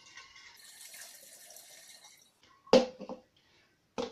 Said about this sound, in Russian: вы открываете эту заглушку, ставите лейку и просто наливаете сюда воду